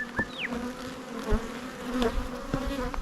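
Honey bees buzz around a beehive in spring, a steady busy hum with individual bees zipping close past and fading away over a low drone.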